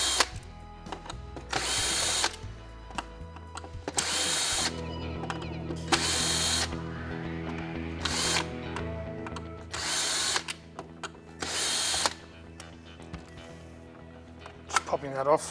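A power drill removes screws from a casing on a folding mechanism, whirring in about six short separate bursts with ratcheting clicks and handling noise between them.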